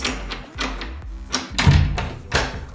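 A NEMA 17 stepper motor strains against a door handle lock, giving repeated loud thunking pulses and grinding bursts at a steady uneven rhythm, close up, with no talk over it.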